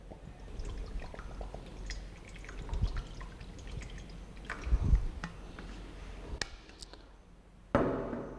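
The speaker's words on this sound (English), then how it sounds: "I have taken a metal dish and I am pouring the water in it." Water poured into a metal dish trickles and drips faintly close by, with a few soft splashes and light clinks and a sharper metallic knock near the end.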